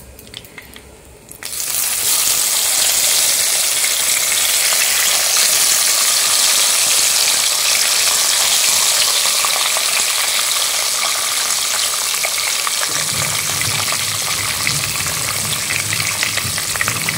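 Pabda fish hit a pan of hot oil with a sudden loud sizzle that stays intense and steady, while faint scraping and stirring sounds join near the end. No one speaks.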